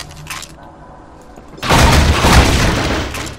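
A grenade blast in the first-person shooter Half-Life 2: Episode One, a loud sudden boom after a quieter stretch, rumbling on and slowly fading.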